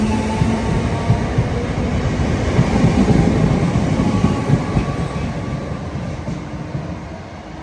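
A train departs St Michael's station with a steady, loud rumble and clatter of wheels on rails that slowly eases off, with no voices.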